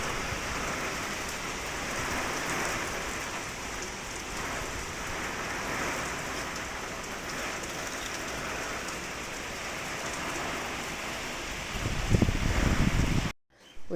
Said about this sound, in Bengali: এই যে দেখো তুমুল পরিমাণে বৃষ্টি শুরু হয়ে গেছে